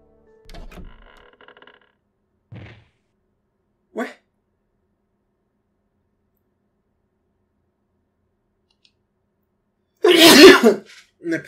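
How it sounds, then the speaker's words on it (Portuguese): A single loud, close sneeze bursts out near the end, preceded by a few faint scattered clicks and small noises in an otherwise quiet room. "Até espirrei."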